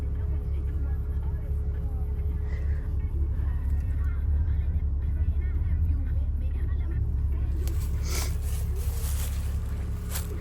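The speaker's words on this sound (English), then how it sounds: "Car is running" A BMW E46 engine idles just after an alternator and drive belt replacement, giving a steady, close, low rumbling hum throughout, with a few faint clicks near the end.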